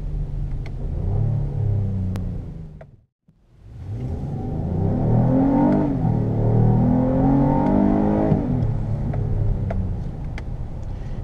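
A 2017 Acura MDX V6 accelerates down a straightaway with a deep engine growl that rises and builds, briefly cuts out for a moment, then pulls strongly again and holds loud and close.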